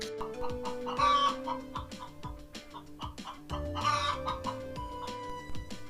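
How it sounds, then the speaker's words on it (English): A hen on a farm clucks in short repeated bursts, close to the microphone, with a sharper rooster-like call rising twice and background music playing underneath. "The sound which hen makes, we call it clucking or cluck cluck."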